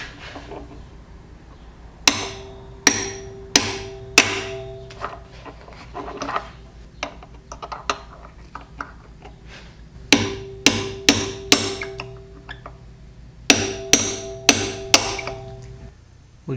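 Sharp metallic hammer taps drive pins straight into an airplane engine housing with a driving tool, coming in three bursts of four or five quick, ringing strikes, close and loud, with quiet pauses and faint knocks in between.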